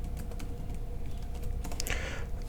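Steady computer keyboard typing, a quick run of soft, close key clicks with no one talking, ending in a slightly brighter flurry of keystrokes.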